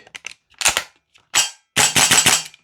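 Vorsk VMP-2 gas blowback airsoft rifle firing, loud close sharp cracks: a couple of quick pairs, a single shot, then a rapid burst of about five shots.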